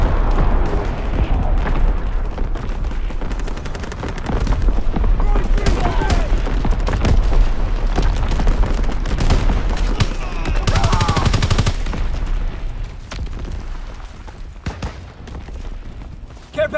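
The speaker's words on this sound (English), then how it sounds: "Artillery ready for orders. Awaiting coordinates. Firing for full effect." Artillery barrage and gunfire in the Call of Duty WWII video game, a dense, loud sustained stream of rapid shots and booming impacts that rises and falls, with game voice lines mixed in.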